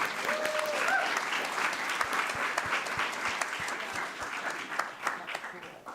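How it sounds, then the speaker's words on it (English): A live event audience applauds to welcome a speaker, a moderate steady round of clapping from the crowd, with voices murmuring beneath it. "thank you everyone for the warm welcome, the round of applause"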